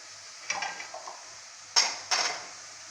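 A metal lid clanks onto a pot of beef stew, with soft scraping and clinking first, then two sharp metallic hits close by over a faint simmer.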